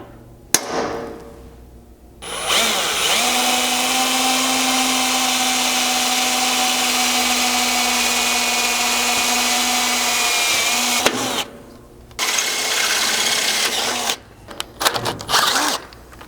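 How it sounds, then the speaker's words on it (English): A power drill whines steadily for several seconds while boring holes into metal, stepping up through drill bits, stops, then starts again in shorter bursts with a few clicks. "stepping your way up with several drill bits to get to that size"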